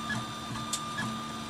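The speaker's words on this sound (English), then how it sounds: "that 20 millimeter cube that I set to print in the Prompter Face software is now printing on the printer" A RepRap Prusa Mendel 3D printer printing a 20 mm cube, giving a steady, quiet mechanical hum with small stepper whirs and faint ticks, alone without voices.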